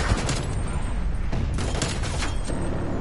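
Artillery strike in the Call of Duty Cold War video game, a loud continuous barrage of rumbling blasts and crackling explosions with several stronger booms standing out.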